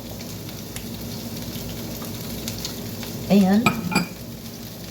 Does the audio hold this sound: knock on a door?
no